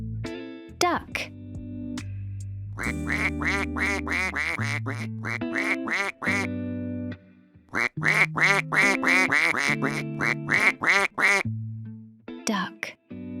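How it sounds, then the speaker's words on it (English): Duck quacks rapidly in long repeated bursts, loud and close, over a bouncy musical backing in a children's farm animal song. "Duck."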